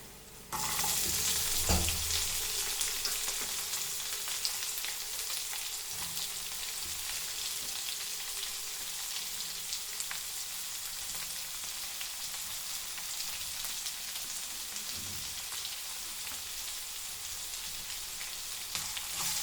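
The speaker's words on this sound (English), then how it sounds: "Now we will add our onion to this." Onion is added to chilies frying in a pan, and a sudden loud burst of sizzling gives way to a dense, rain-like crackle that holds steady, with occasional soft spatula knocks.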